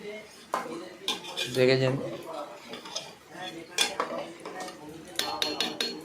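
A spoon scrapes and clinks repeatedly against a bowl while a khichuri mixture is stirred, a close, uneven rattle of metal on dish with a person speaking briefly over it.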